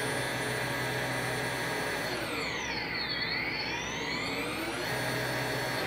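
DJI Inspire 1 drone motors, unloaded and run at full throttle on a battery mod, emit a loud steady high-pitched whir that dips and rises again in pitch midway, continuous with no talk.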